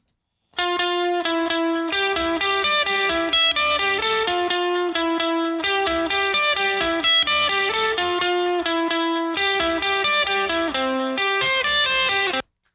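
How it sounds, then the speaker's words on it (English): A mono lead guitar part played dry with no reverb, carrying a distorted, effects-heavy tone, runs as three melodic phrases with brief gaps between them and ends cleanly. "This is a lead guitar part, mono lead guitar part. Here's what it sounds like without the reverb on."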